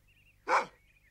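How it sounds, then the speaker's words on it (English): A single dog bark, fairly close and loud, sounding once in an otherwise quiet outdoor setting, with a faint bird-like tone trailing before and after. "A dog."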